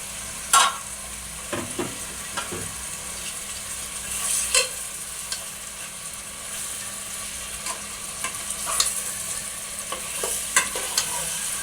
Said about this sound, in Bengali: এই যে মাংসগুলো দিয়ে দিচ্ছি